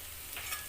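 Ginger and garlic fry with raw jackfruit in a pan, giving a faint, steady sizzle with a light stirring scrape near the middle.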